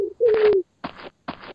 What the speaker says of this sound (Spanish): Veo puros pajaritos.